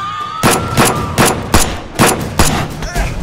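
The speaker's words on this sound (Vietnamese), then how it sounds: "thằng kia nó bắn tôi" Enemy gunfire in the game Taken Soul: about eight loud, sharp shots in a fairly regular rhythm, close by, with no talking.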